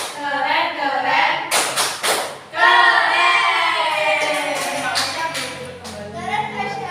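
Children in a class perform the 'tepuk keren' clap routine, a few sharp rhythmic claps breaking through the voices, with a group chanting and talking throughout.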